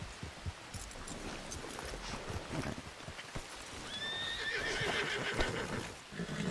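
Horse neighing in Red Dead Redemption 2, a clear whinny rising near the end over a busy background of hoof clip-clop and game ambience.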